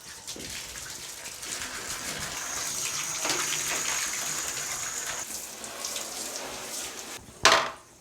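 Running water splashes steadily while a greasy part from a Coway AP-1512HH air purifier is scrubbed with dish detergent and a sponge at a sink, ending in a brief louder gush.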